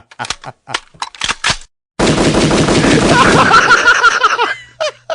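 Pistol gunfire sound effect: a short gap of silence, then a loud, dense burst of rapid shots lasting about two seconds, framed by brief bursts of chatter or laughter before and after.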